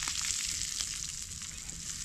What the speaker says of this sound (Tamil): முதல்ல இவ்வளோ மீனை போட்டு தோசைக்கல்ல போட்டு வறுக்கிறோம்